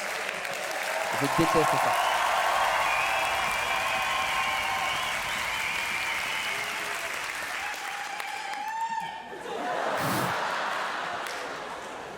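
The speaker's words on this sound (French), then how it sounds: "Je déteste obtenir des applaudissements qui sont pas dus à des bonnes blagues." A live audience at a Kheiron comedy show in Montpellier gives full, sustained applause for about nine seconds. The clapping then thins out and a voice speaks over the quieter room.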